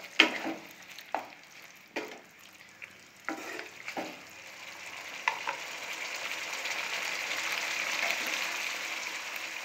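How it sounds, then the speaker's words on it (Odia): Potol rasa, a pointed gourd curry, simmers with ghee in a pan while a spoon scrapes and stirs in several distinct clacks over a soft, steady sizzle that builds toward the end, with no talking. "ଏଥିରେ ଅଳ୍ପ କରି ପାଉଡର, ଅଳ୍ପ ଗୁଆ ଘିଅ ଦେଇ ଭଲ ଭାବେ ଗୋଳାଇ ନେବା।"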